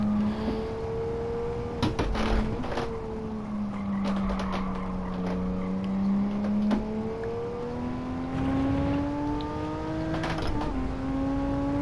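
A car engine in Gran Turismo 7 revs up in rising tones and drops pitch at several upshifts, with the gear changes spaced a few seconds apart. Light mechanical clicks sit over the steady, close engine drone.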